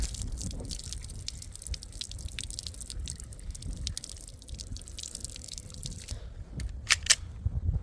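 Water rinses a PSA Dagger pistol during a torture test: a continuous splashing wash of uneven spatters and drips, close by, ending with a couple of sharp metallic clicks.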